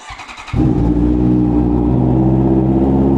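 A 2024 Honda CB650R motorcycle engine starts after a few seconds of quiet mechanical clicking. It then settles into a loud, steady, close idle as it warms up, with no talk over it.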